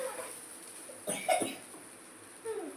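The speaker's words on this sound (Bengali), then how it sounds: "জল ঘেটে ঘেটে কাশছে" A child gives a brief, faint cough or two at moderate distance against quiet room background.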